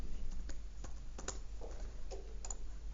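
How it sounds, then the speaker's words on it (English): Student ID typed on a computer keyboard, a sparse run of faint, separate key clicks with short pauses between them, heard alone in a quiet room. "So when I type my ID in,"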